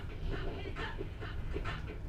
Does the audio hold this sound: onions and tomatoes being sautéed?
no